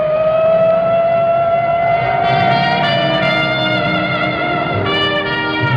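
City sirens wail continuously, a loud rising and falling civil-defense-style tone with layered harmonics that swells and wavers over several seconds with no voices.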